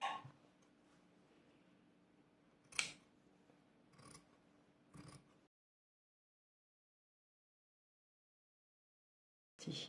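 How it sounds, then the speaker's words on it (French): Scissors cut fabric in a few separate close, crisp snips spaced a second or so apart, followed by silence and one more short snip at the end. "je vais pouvoir couper mon tissu"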